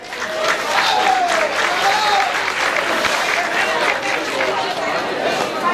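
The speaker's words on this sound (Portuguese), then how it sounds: "Os aplausos da plateia para Raimundo Caetano." Audience applauding for the poet Raimundo Caetano at a poetry festival in São José do Egito, Pernambuco: steady, dense clapping with crowd chatter and cheering, sustained and fairly loud throughout.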